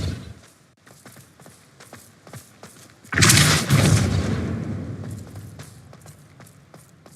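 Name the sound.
Depulso spell cast in video game Hogwarts Legacy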